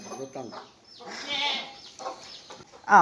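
Desi black chicks cheep and chickens cluck nearby in a partitioned poultry farm, with bursts of bird calls and a louder squawk near the end, scattered over background noise.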